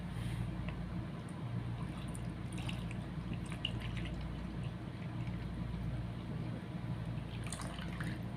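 Water from a bottle is poured into the tank of a portable air cooler fan, making a steady trickling, dripping flow that runs unbroken and fairly faint, with a few light plastic taps and no talking.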